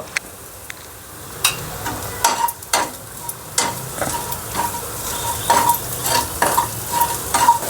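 Turmeric fried and stirred in oil for buttermilk kadhi, giving a steady soft sizzle under repeated scraping stir strokes and occasional sharp clinks of a spoon against the pan, with no talking.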